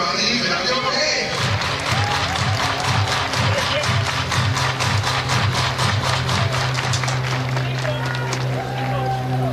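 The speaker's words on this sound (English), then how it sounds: "Everybody clap your hands." A large crowd at a Mariners vs Dodgers spring training baseball game claps in steady unison rhythm, loud and continuous, with a commentator talking over it.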